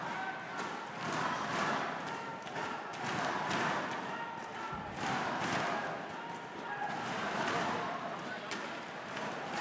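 At a Thai Fight kickboxing event, a large crowd roars and cheers for Saenchai in rising and falling waves, a dense, continuous wash of voices with dull thuds mixed in and commentary talking over it.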